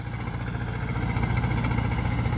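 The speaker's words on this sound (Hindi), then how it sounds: "क्या ज़बरदस्त चाल है ट्रैक्टर की" A 51-year-old Zetor 2011 tractor engine runs steadily and close by, with a continuous low diesel chug and no voices over it.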